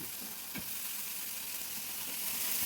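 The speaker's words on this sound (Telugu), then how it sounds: "ఇప్పుడు దోసకాయ ముక్కలు వేద్దాం" Cucumber pieces dropped into a hot pan with dried prawns for a Telugu-style curry, giving a steady, quiet sizzle with a few soft clinks as they land.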